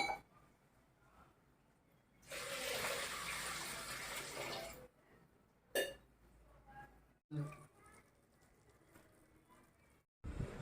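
Water poured over two cups of puffed rice to soak, a steady rushing pour lasting a couple of seconds followed by softer splashes and handling clatter, close by.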